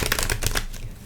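Tarot cards shuffled in quick, crisp riffling bursts that dominate the first half-second and then taper into a softer rustle, close and fairly loud with no talking.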